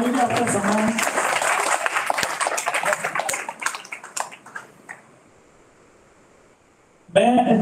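An audience at an International Day of Older Persons event gives a burst of clapping that thins out and fades to near silence. A short loud noise comes right at the end.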